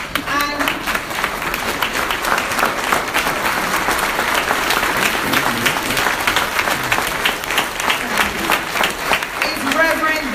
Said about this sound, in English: please rise, everybody, and give them a big round of applause